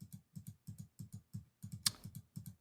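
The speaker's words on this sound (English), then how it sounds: "this clicking? It's very loud." Rapid, regular clicking of buttons in quick pairs and short bursts, close and fairly crisp, with one sharper click standing out partway through.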